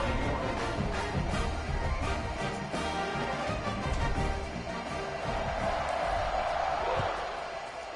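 Stadium crowd roar in a football video game, a sustained dense wash of cheering with scattered sharp thumps, loud and continuous, easing slightly toward the end.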